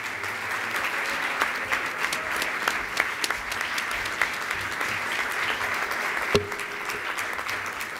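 An audience at a Paraguay malaria-free certification ceremony applauds to welcome the health minister, a sustained wash of many hands clapping at moderate distance, with a few sharper individual claps standing out.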